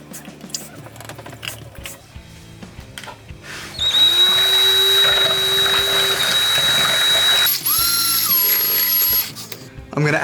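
A power drill whirs steadily as it mixes camel-colored pigment into part A of a polyaspartic flake floor coating, starting after a few seconds of shuffling and holding at a loud, close whine.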